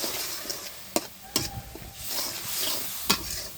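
Green chillies sautéing in a pan, with a steady sizzle broken by a few sharp scrapes and clacks of stirring, close and fairly quiet.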